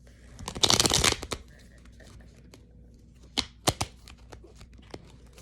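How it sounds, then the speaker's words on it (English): Tarot cards get shuffled in a quick, loud riffling burst near the start. After a quiet stretch, a few sharp snaps follow as cards are pulled from the deck. "Actually, no, I'll pull two more cards, and then we're gonna finish it up."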